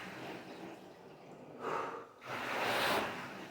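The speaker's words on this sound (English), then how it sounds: "So you can hear that I'm a little bit out of breath doing that." Heavy, out-of-breath breathing during exercise for long COVID recovery, done while holding a steady heart rate: a couple of close, rough breaths, the second one longer, over a faint background hiss.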